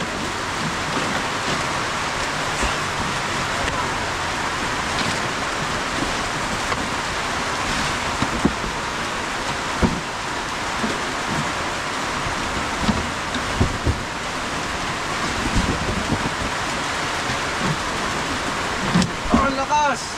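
Heavy rain pours down outside in a steady, dense hiss, with occasional low rumbles of thunder beneath it throughout.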